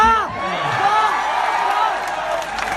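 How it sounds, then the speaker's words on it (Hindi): At a political mushaira, an audience applauds and cheers in a sustained crowd roar, with a speaking voice over the opening moment before the clapping continues steadily. "बहुत कमजोर तालियां रही हैं"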